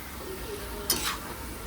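Chopped green onion and green garlic stirred in a cooking pan, a brief scrape of the spoon over a steady background sizzle, close, with no talk.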